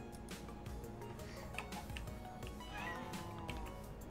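A cat meows in modded Minecraft 1.7.10, a faint mew set against soft ticking and low background game noise, with a short rising cry near the middle.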